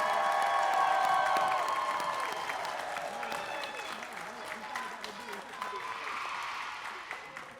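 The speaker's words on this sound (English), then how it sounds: "Please give them a round of applause one more time." Sustained applause from a large crowd at a high school graduation ceremony, loud at first and gradually thinning, with some cheering and a voice over it.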